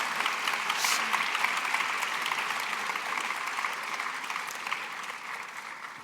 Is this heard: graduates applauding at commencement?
yes